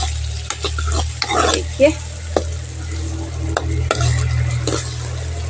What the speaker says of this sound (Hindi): यहाँ पर आलू और प्याज को भूंज रहे हैं इस तरह से